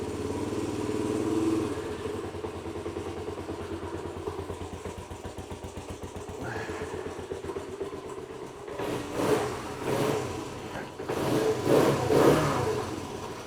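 A motorcycle engine runs steadily, then revs up in several loud bursts toward the end, with no voices over it.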